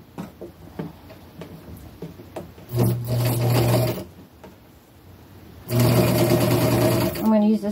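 A sewing machine zigzag-stitches lace onto an upcycled boho scarf in two sustained motor runs with a quieter gap between them, while a person talks close by.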